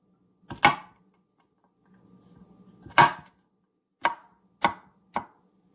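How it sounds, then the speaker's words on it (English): A knife chops garlic on a cutting board with five sharp, distinct knocks spaced about a second apart, close and clear against a quiet background. "And now I have minced garlic."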